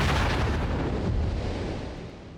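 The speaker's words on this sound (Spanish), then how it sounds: "Cuando lo hacen, provocan un cortocircuito con una tremenda explosión." A loud, rumbling explosion effect depicting a solar eruption bursts at the start and decays into a long, booming roar over a couple of seconds, with no speech.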